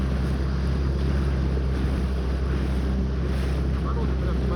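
A Sea Pro outboard motor on a Skat boat on the river runs at low revs, a steady close engine drone mixed with wind and water noise.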